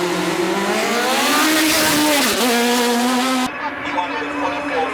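Engine of a 1970 Chevron historic race car at a hillclimb, a loud close high-revving scream climbing in pitch, briefly dipping on a gear change, then cutting to fainter running as it moves on.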